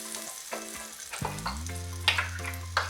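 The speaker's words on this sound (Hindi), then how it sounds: "पाव सेकने के लिए थोड़ा सा बटर डालेंगे।" Butter melting on a pan for toasting pav for Mumbai-style pav bhaji, a light crackling sizzle with sharp spatula taps and scrapes, close and moderately quiet, with a low hum underneath.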